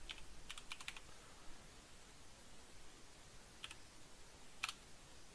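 Faint, quick bursts of computer keyboard keystrokes tap out a short word, a cluster at the start and a few more clicks later, sitting over a steady background hiss.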